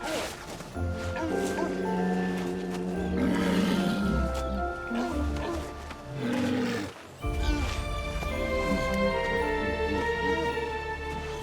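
A walrus calls from a crowded beach with loud, roaring bellows and grunts from the herd, continuous and dense, near and layered throughout.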